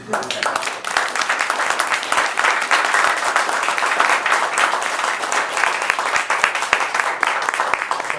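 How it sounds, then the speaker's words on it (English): An audience at a rowing coxing clinic gives a sustained round of applause, the dense, fairly close clapping continuing at an even level throughout, with hints of voices beneath it. "We should definitely give you a round of applause."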